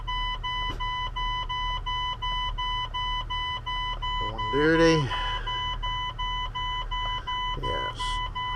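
A vehicle's dashboard alarm beeps repeatedly in an even electronic pattern after the switch is turned on for a pre-trip check, with someone speaking briefly over it.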